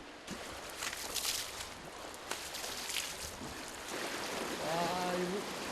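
A strong river current in Jordan churns steadily with broadband hiss and splashing, loud and close, while a voice briefly sounds near the end.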